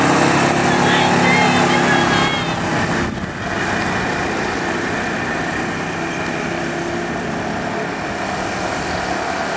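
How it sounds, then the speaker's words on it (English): Golf carts race in the first round of a golf cart race at the 2013 Mid Atlantic Challenge, a loud continuous engine drone with a brief dip partway through, and crowd noise or voices blended in underneath. "First round of the golf cart race"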